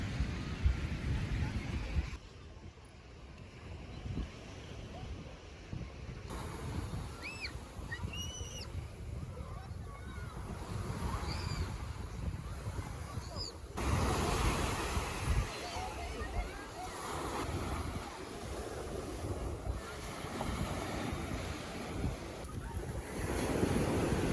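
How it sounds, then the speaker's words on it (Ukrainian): On a crowded beach at Chornomorsk, surf rolls and breaks continuously while wind buffets the microphone, with faint distant voices and brief high calls over the steady roar. "бачите, скільки людей на пляжі"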